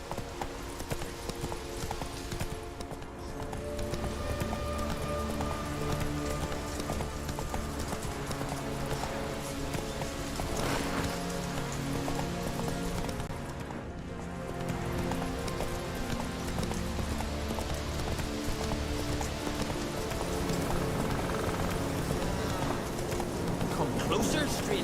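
Hooves of Roach, the horse in The Witcher 3: Wild Hunt, clip-clopping in a steady continuous gait, moderately close, under a dense bed of game music and ambience throughout.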